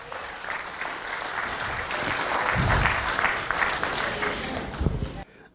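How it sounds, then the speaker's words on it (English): Applause from a club audience for a Vietnam-era serviceman and pilot, steady crowd clapping with murmuring voices, swelling slightly in the middle before cutting off abruptly near the end. "So a huge round of applause to our serviceman,"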